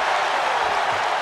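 A capacity wrestling arena crowd from WWE 2K24 roars steadily in a dense, continuous wash of cheering and applause, loud and sustained with no breaks.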